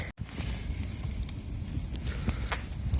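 A campfire of damp firewood burns outdoors by a lake in the woods, giving a steady rushing hiss broken by a few sharp crackles and pops, fairly close and with no talk.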